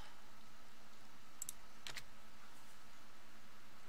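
A few quick, faint keystrokes on a computer keyboard while typing a search, sounding as two brief bursts of clicking over a quiet background hum.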